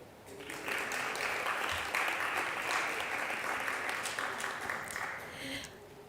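Audience applause for a panelist at a panel event on gender equality and climate-resilient energy, a steady, dense clapping that fills about five seconds and then fades out.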